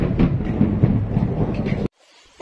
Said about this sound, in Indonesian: Aduh, ada petir.